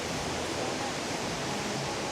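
Skogafoss waterfall in Iceland roars as a steady, dense wash of falling water, heard close and continuous with no break.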